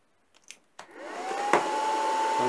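Cooling fan of an induction heater used for heating steel, copper and aluminium spins up after a few clicks, rising into a steady whirring hum with a rising whine.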